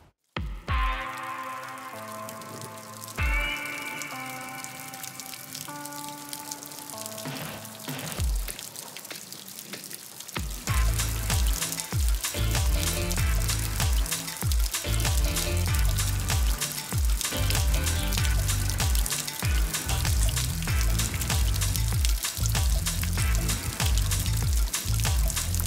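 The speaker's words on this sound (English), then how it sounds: "we've just cycled up the Quermont in the pouring rain, as you can see. It's absolutely chucking it" Heavy pouring rain while cycling the Quermont climb during a Flanders recon ride. Music plays first, then a dense, loud, steady hiss of downpour sets in, with rhythmic low thumps running through it.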